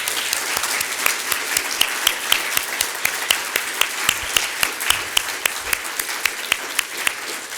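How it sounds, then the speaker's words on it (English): Applause from a conference audience at a sustainable AI event, dense steady clapping filling the room with sharp individual claps standing out, continuous throughout and without talk. "So, round of applause."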